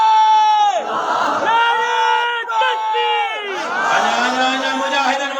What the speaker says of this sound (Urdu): پنڈال میں تکبیر جو نارو بلند کر دے